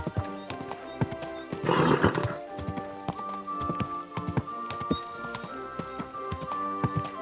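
In the video game Kingdom Come: Deliverance II, a horse whinnies loudly, then hooves clip-clop in a steady, close rhythm with occasional snorts, no one speaking.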